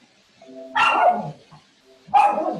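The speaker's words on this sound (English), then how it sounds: "I have a dog in the background chiming in" A dog barks in the background, two separate short barking bursts about a second apart, fairly close and clear with little else around them.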